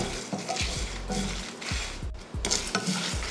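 Chana dal, fenugreek, sesame and mustard seeds dry-roast in a pan over low heat, with a soft, steady rustle broken by repeated scrapes and light metallic clinks of the spoon against the pan, close up.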